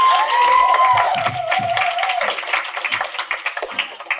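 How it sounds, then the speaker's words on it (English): Audience applause and cheering at a high school poetry slam, a burst of crowd clapping with a whistle and shouts early on, thinning into scattered claps. "give them a better round of applause, come on."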